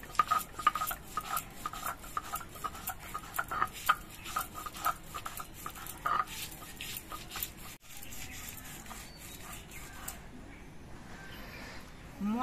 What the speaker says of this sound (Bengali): মটর ডাল শিলে বাটতে একটু কষ্ট হয়